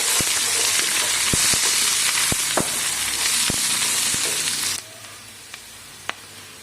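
Onions and mustard seeds sizzle loudly in hot oil, a dense steady frying hiss with a few sharp pops and spatula clicks, then the sizzle drops away to near quiet with only isolated ticks.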